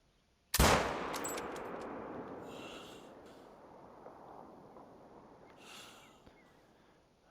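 A single loud hunting-rifle shot rings out in theHunter: Call of the Wild during a bear hunt, a sharp crack followed by a long, fading rumble of echo.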